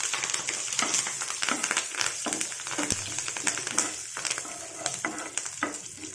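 Mustard seeds, fenugreek and cumin splutter in hot oil in a pan for a mango-grated pulusu, giving a steady close sizzle dotted with sharp, irregular popping crackles throughout, with no voices.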